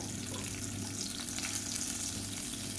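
Urad dal, curry leaves, chopped green chilli and dried red chillies crackle and fry in hot oil for a millet kolukattai tempering, a steady, fairly quiet sizzle with a faint watery hiss underneath and no voices.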